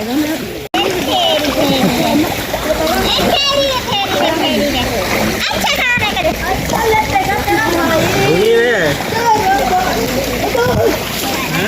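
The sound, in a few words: waterfall water splashing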